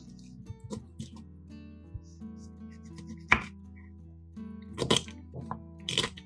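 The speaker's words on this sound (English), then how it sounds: "Place each half flesh side down on a cutting board and cut in half lengthwise." A knife chops through a pineapple halved flesh side down on a cutting board, with a few sharp, close thunks spaced irregularly over light background hum.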